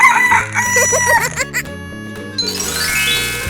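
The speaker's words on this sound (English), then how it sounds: "Chicken." A cartoon rooster crows in a 3D animal slide game, a loud stretched cock-a-doodle-doo over upbeat game music with jingly tones, the crow rising near the end.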